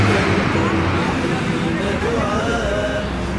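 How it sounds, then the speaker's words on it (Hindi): Busy city road traffic flows past hotels in Makkah, a dense, continuous roar of engines and tyres at close range with a faint babble of voices blended into the street noise. "इतना ट्रैफिक है।"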